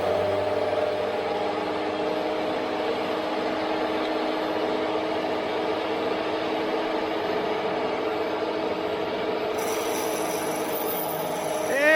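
Metal lathe with a carbide bit surfacing a flange, a continuous rasping, scraping cut over a steady motor hum, even and unbroken throughout with no talking.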